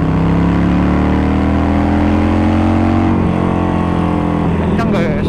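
Harley-Davidson Sportster 48 motorcycle fitted with a Vance & Hines short exhaust, a loud steady engine drone with rising harmonics as it accelerates, close and continuous for the whole stretch.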